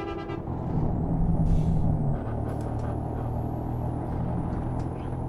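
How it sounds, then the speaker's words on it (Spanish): A heavy truck in Euro Truck Simulator 2, driving a route in Colombia toward Bogotá, rumbles loudly and steadily with a deep engine drone, an air-brake hiss near the start and a faint high whine above. "Vean eso, cómo ruge ese vehículo"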